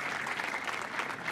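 Brief, steady applause from an audience welcoming a young couple, a dense wash of many hands clapping at even loudness.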